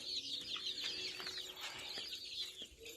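Free-range chickens cluck and chatter in a flock while being fed azolla on a farm, a continuous faint murmur of clucks with no talk.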